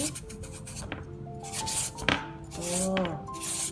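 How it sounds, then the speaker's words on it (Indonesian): Young papaya being grated by hand for a stir-fry, a steady run of scratchy rasping strokes that swell and fade in close, with a voice speaking over parts of it. "Mulai kita parut-parut ya."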